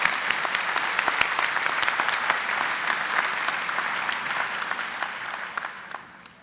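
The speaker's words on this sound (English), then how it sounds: "let's give Senator Teplitz another round of applause" A large commencement crowd applauding a senator after his speech, full sustained clapping with some sharp individual claps standing out, gradually fading toward the end.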